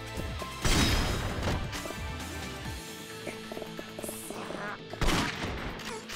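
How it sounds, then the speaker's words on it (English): Point-blank shotgun blast in Yakuza 3 Remastered, a loud broadband boom near the start followed by clattering game effects and a second heavy hit toward the end, over busy game background sound. "Point blank with a shotgun"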